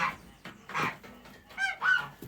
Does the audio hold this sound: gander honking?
yes